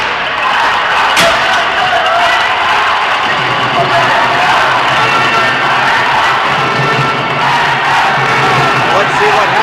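Slovak fans at a junior ball hockey world championship game cheer in a loud, continuous crowd roar, with a single sharp bang early on and shouts rising through the din.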